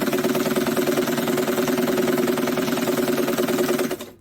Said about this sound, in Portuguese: Aqui eu tô passando a costurinha reta.